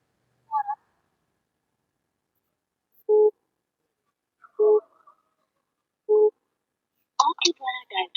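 A phone busy signal sounds while a call to a husband goes unanswered: a few short, evenly spaced electronic tones over silence, then a recorded voice starts speaking.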